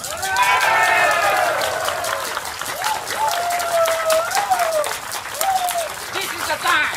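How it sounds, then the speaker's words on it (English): Applause and cheering from an audience at a political rally, sustained clapping and crowd noise throughout, with a voice speaking over it. "Let's put our hands together and cheer Roy."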